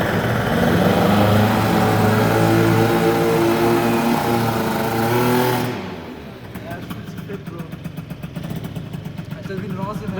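A modified 70cc moped engine revs loud and close on a first test ride, a buzzing two-stroke drone that cuts off at about six seconds, leaving a rapid ticking idle and wind.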